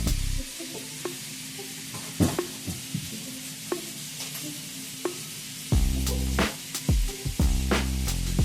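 Pasta sauce simmers and sizzles in a pan as it cooks down, a steady close frying hiss with scattered pops and spits throughout, growing louder and busier near the end.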